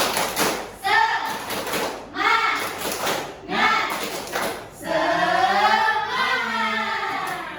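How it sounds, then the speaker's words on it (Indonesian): A classroom of children doing the Indonesian tepuk semangat spirit clap: rhythmic bursts of clapping and stamping in repeated groups, mixed with chanting voices, ending in a longer sustained group shout. "Kita akan melakukan tepuk semangat supaya kita lebih semangat."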